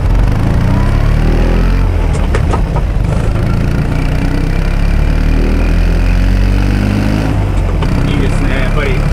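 A classic Fiat 500 engine runs while driving, a steady mid-pitched hum with harmonic whine and occasional clicks, heard under someone talking in the cabin.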